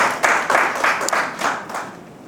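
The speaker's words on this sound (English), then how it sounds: "let's give him a round of applause for pushing and helping us to get citizenship" A workshop audience at a trade expo claps for a man who helped people gain citizenship, the applause coming in a few loose, rhythmic bursts that taper off toward the end.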